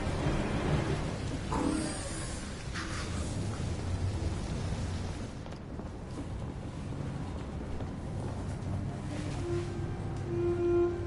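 Steady rain with rumbling thunder in the video game Detroit Become Human, a continuous loud wash of downpour with low booms and no talking.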